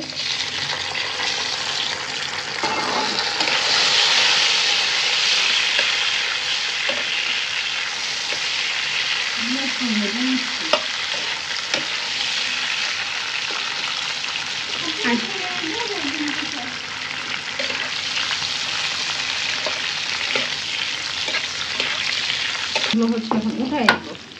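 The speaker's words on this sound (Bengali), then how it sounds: "কিশমিশটা একটু ভাজা হয়ে গেলে পরে হচ্ছে আমি আলু বোখারাটা দিয়ে দিব।" Raisins and dried plums frying in a pan for a sweet, sour and spicy plum and green mango chutney: a steady, loud, close sizzle with intermittent stirring, and brief murmurs of voices partway through.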